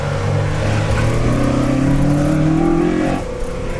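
A loud Opel Manta engine with individual throttle bodies revs steadily higher, a rising intake howl and growl, then eases off at the end.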